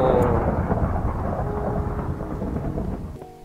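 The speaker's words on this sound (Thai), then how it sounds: "นี่เสียงของฟ้าผ่านี่ก็น่ากลัวอยู่เหมือนกัน" Thunder from a thunderstorm in the video game Minecraft: a loud, long, rolling rumble over steady rain that slowly fades.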